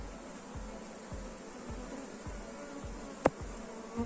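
Honey bees buzz steadily during a full beehive inspection, a dense, continuous hum close by with faint periodic low thumps and one brief sharp click near the end, no voices present.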